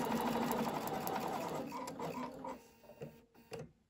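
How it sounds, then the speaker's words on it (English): A sewing machine stitches two fabric strips together with a quarter-inch seam, a fast, steady mechanical whir that slows and stutters to a stop near the end, fairly quiet and close. "Begin by sewing the two strips together using 1/4 inch seam"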